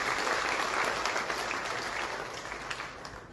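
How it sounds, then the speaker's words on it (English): A live audience applauds in a sustained, fairly distant patter of clapping that slowly fades toward the end. "I think we need to clap for this measure."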